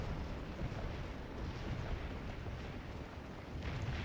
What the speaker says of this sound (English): that's all from gunfire